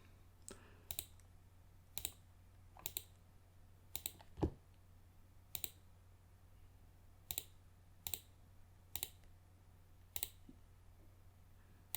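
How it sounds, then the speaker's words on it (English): Steady, evenly spaced mouse clicks, a dozen or so sharp single taps, made while tracing a selection in Photoshop, close and clear over a low background hum with no talking. "you've got to click quite often"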